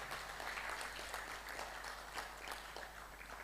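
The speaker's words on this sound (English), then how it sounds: "Give ourselves a big round of applause for the participation." Workshop participants applaud together in a conference room, a continuous, fairly quiet patter of many hands clapping over a low steady hum.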